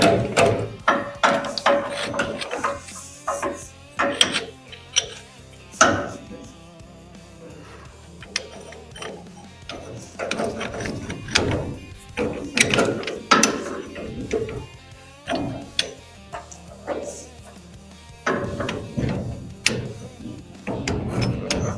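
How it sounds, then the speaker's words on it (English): Steering shaft being fitted into a 1956 Jeep during restoration: irregular metallic clanks, knocks and ratcheting clicks of parts and tools, loud and close, with brief pauses between bursts. "Let's go ahead and put our steering shaft back in it right quick though."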